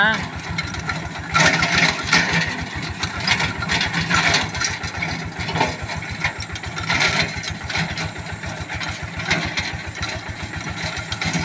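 A small Kubota KRT140 4x4 tractor tills weeds in a lime orchard, its engine thudding in a fast, steady beat close by with grinding, mechanical rattle over it and voices now and then.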